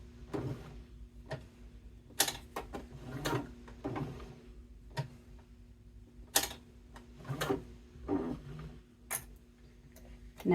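A hand-cranked sewing machine stitches a leather bifold wallet, worked slowly around the corners: quiet, irregular mechanical clicks and soft knocks, with no voices.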